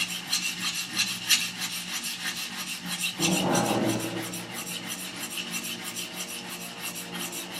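A plane iron being sharpened by hand on a sharpening stone, with quick, rhythmic rasping strokes scraping back and forth, up close and alone, and a heavier rubbing push midway.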